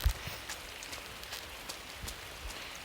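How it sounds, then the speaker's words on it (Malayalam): Heavy rain falls in a video game, a soft, faint hiss with scattered drop-like taps and small thuds across the short stretch, and no voices. "ഭയങ്കര മഴയാണ് ഗൈസ്"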